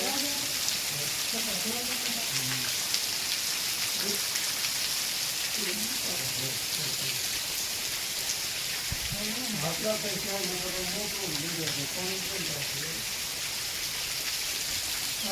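A heavy downpour hisses constantly and evenly, filling the background, while people speak now and then underneath the rain's steady wash.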